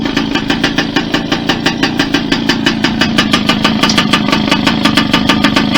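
An MBK 51 moped under restoration, its small two-stroke engine revved while the throttle is held, giving a loud, close, rapid buzzing with evenly pulsing firing beats that stays steady throughout.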